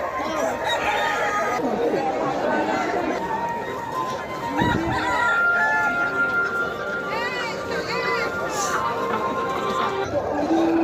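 Roosters crow and cluck at a crowded cockfight arena and fair, the calls rising over the dense chatter of many people talking nearby.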